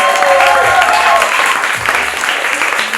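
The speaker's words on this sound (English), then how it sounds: "David Munoz, your applause!" Audience applause for David Munoz at a live event, a loud clatter of clapping that tails off gradually over three seconds, with some voices mixed in.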